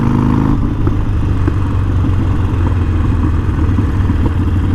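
Harley-Davidson Sportster 48 motorcycle engine while riding: a loud, steady, punchy rumble with throbbing low pulses and rushing wind noise, close up and continuous with no talk.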